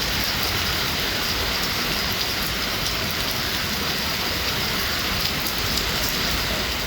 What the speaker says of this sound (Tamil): சென்னை புறநகர் பகுதிகளான தாம்பரம், பல்லாவரம், வண்டலூர் சுற்றுவட்டாரத்தில் கனமழை கொட்டித் தீர்த்தது